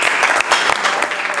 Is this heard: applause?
yes